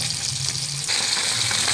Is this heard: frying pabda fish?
yes